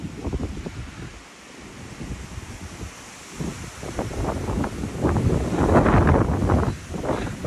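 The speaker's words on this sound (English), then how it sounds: "Wind is something awful this morning." Strong morning wind blows across a farm, buffeting the microphone in loud, uneven gusts that swell and ease, with rustling and roaring rising toward the end.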